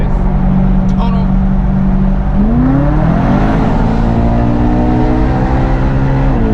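A BMW E92 M3 pulls away with its exhaust bypass open, a steady low drone giving way to a rising, strongly tonal engine note that climbs and holds loud and near.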